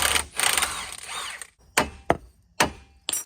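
A hand ratchet clicks and clatters as bolts come out of the lower control arm and bottom shock mount of a 4x4 Silverado truck during a drop-kit install, with several sharp metallic bursts and short pauses between them.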